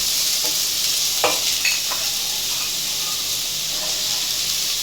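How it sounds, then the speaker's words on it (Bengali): Thinly sliced bottle gourd hits hot oil in a wok for a simple lau shukto, giving a steady, close hiss of sizzling with a few soft clatters of stirring. "400 গ্রাম লাউ সরু করে কেটে রেখেছি, সেগুলো তেলের মধ্যে দিয়ে দেবো"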